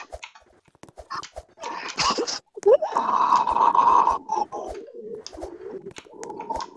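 A bird coos in a low, throaty run of calls at close range, loudest in the middle stretch, with brief human voices and scraping around it.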